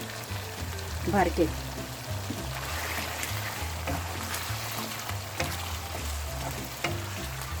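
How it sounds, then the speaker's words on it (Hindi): Chicken masala with yogurt sizzles and fries on full flame, a steady crackling hiss with occasional sharper spits, while someone talks over it. "ये देखिए माशाल्लाह कितना अच्छा ये भुन रहा है"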